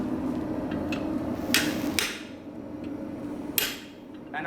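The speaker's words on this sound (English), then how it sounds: "because we've got a nice radius chisel, I can roll in quite nicely" A radius chisel cuts a slot with a few sharp taps, each a distinct knock at an uneven interval, over a low steady background hum.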